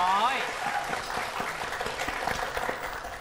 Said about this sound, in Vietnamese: Một tràng pháo tay cho.